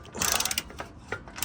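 Ratchet wrench cranking a stuck bolt during engine removal, a rapid run of close mechanical clicks, loud and dense at first, then sparser strokes with a few sharper bursts.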